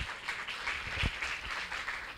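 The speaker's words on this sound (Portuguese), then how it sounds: "Pode aplaudir Jesus, que ele merece." Faint, steady applause from a church congregation during a sermon, a soft continuous patter of clapping heard from a distance.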